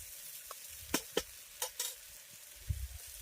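Banana flower and grated coconut are sautéed in a pan, with a few distinct spatula scrapes and clacks over a soft, low sizzle.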